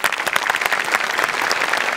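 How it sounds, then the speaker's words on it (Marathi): The studio audience of the comedy show Maharashtrachi HasyaJatra applauds loudly, with dense, continuous clapping sustained throughout. "क्या बात, जोरदार टाळ्या."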